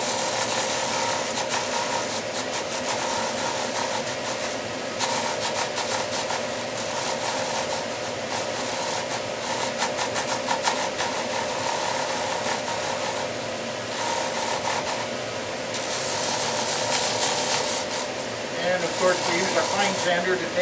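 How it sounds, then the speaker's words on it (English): A finer power sander works the small details of a wooden intarsia piece, giving a steady close whir with rasping surges throughout, while a voice speaks over it at times. "move over to our finer sander so we can work down to the details."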